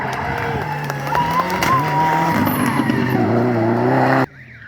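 A BMW E36 rally car screams past at full throttle on a rally stage, engine howling high and steady with tyre noise, loud and close, then cutting off abruptly.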